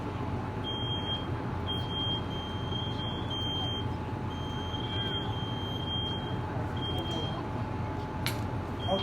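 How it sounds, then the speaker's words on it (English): A high electronic alarm beeps in short repeated bursts over a steady low hum and background noise, with no talking. "My smoke detector is going off."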